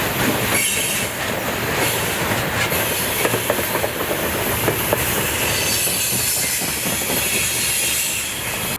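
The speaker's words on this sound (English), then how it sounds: "Trains are not as loud as you think they should be" A train rolls past close by, a dense roar of wheels on rails with squealing metal and rhythmic clacking, continuous and loud.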